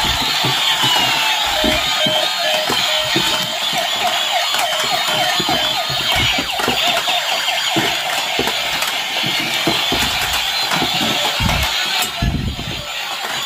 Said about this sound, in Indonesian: Selanjutnya truk pemadam kebakaran yang ini. Kita nyalakan.